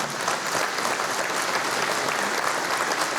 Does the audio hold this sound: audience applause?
yes